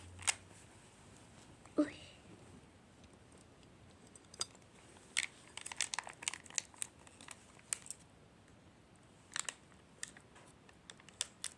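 Plastic wrapping on a unicorn egg toy being cut open, sparse crinkly snips and rustles, close and fairly quiet, scattered irregularly across a hushed background.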